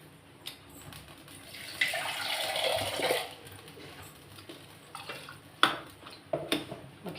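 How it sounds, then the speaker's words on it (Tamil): Water pours into a cooking pot on a home kitchen stove while lunch is prepared, a steady splashing stream building for about a second and a half before stopping, followed by scattered light clinks of a pot and utensils. "இன்னும் கொஞ்சம் தண்ணி ஊற்றினா கூட நல்லது தான்."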